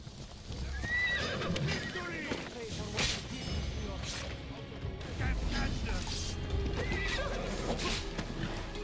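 Horses whinny and hooves clip-clop amid battle noise as guards ride on horseback in the video game Assassin's Creed Odyssey, with someone talking over the busy, continuous mix.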